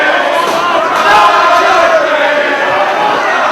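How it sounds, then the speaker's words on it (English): A wrestling crowd at a Ring of Honor event chanting in unison, a loud, dense, rhythmic roar of many voices filling the arena. "And again, the crowd chanting, trying to take Roderick off his game."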